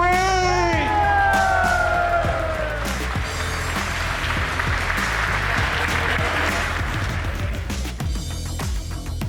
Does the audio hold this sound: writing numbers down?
no